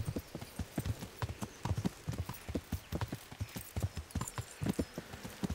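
A horse's hooves clip-clop in a steady walking rhythm while riding in Kingdom Come: Deliverance, fairly close and quiet, with faint talk now and then beneath.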